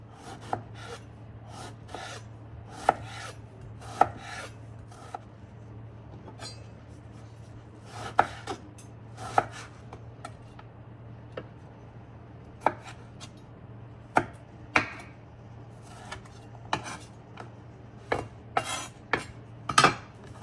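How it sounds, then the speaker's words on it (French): Persimmons, rinsed and with the skin left on, are diced into small cubes with a knife: a run of crisp, irregular knife taps, some in quick clusters, close-up over a faint steady hum, with no talk. "Je vais tout d'abord commencer par couper en petits cubes les kakis."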